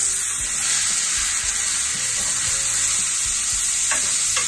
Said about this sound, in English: I can smell the bacon over here, but I smell the onions and the garlic cooking in here